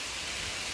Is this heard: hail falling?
yes